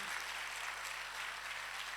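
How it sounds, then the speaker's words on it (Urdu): Congregation clapping during a Catholic church service for the Solemnity of the Body and Blood of Christ, a steady, even patter of many hands throughout, moderately close and fairly quiet. "چلو چلو ہن تالی بجا دو"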